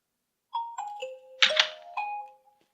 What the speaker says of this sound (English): Nokia sound there, sounds good